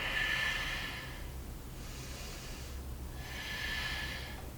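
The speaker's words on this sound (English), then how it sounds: "Inhale, exhale." Slow, deep breaths in and out during a Pi-Yo fusion workout, two long airy breaths separated by a quiet pause, close and clear, with no talk.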